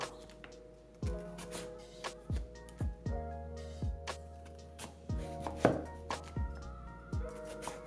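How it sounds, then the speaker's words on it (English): A knife chops potatoes lengthwise into French fry strips on a cutting board, giving about a dozen sharp, close thuds in an uneven rhythm with brief pauses between strokes, and no talking. "So you wanna cut this the long way. Just go down and cut them as thick or as thin as you want them."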